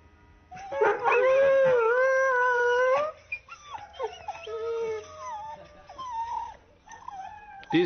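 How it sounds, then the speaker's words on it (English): Several dogs howl in long, wavering, overlapping tones, loud and close for a few seconds before fading into scattered whines and softer howls. The dogs are kept at a farm in South Africa. "These are the leader's dogs"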